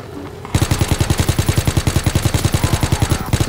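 Rapid machine gun fire with unlimited bullets in a WW2 zombie video game: after a brief quiet start, an unbroken stream of evenly spaced loud shots rattles on at a fast steady rhythm to the end.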